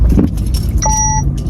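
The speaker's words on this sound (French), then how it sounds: "C'est parti les filles, je démarre." A car engine turns over and catches at ignition, a low rumble with a short dashboard chime tone over it, heard from inside the vehicle.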